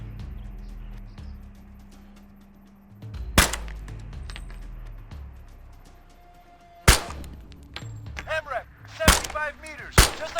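Gunfire from the ArmA 3 military shooter game, with a few loud, sharp shots ringing out singly over a low rumbling background, spaced irregularly across the stretch.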